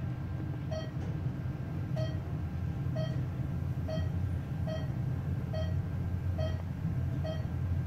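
Short electronic beeps from a ThyssenKrupp DSC traction high-rise elevator in Denver repeat at a steady pace, roughly every second, over a constant low hum and rumble of machinery.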